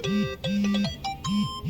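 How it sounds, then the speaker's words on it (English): A mobile phone rings with a short melodic tone pattern that repeats several times in quick succession, clear and close. "That was my phone."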